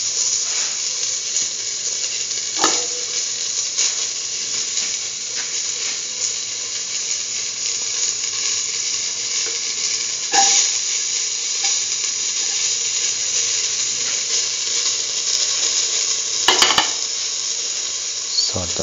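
Onion pieces fry in a hot pan with a constant bright sizzle, broken by a few sharp spoon-against-pan taps at intervals.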